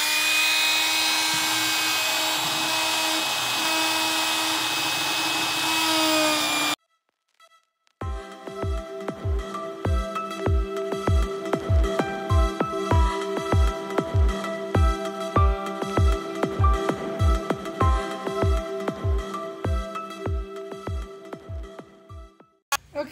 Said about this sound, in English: now I'm going to put a 1/4 inch round over, same as I did on the top side of the table, on all the legs